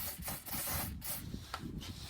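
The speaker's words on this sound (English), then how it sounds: "this is a bit of steel wire rope spray just to keep them threads nice and lubricated" Short bursts of steel wire rope spray lubricant hiss onto threads during a Tesla Model Y HEPA filter service, close and fairly quiet, with a couple of brief pauses between sprays.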